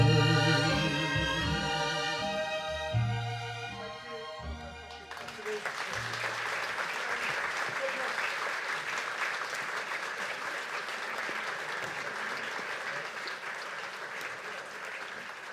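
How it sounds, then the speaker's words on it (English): A large crowd applauds at an opening-night event, steady broadband clapping that starts after a few seconds of music and continues loud and unbroken to the end. "round of applause again for Martin Rowson."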